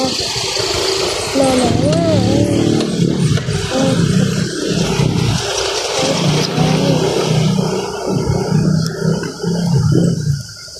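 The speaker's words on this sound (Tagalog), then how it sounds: "Traffic." Road traffic with cars passing: a steady roar of engines and tires rising and falling as vehicles go by, close and loud, with voices and singing-like sounds mixed over the noise.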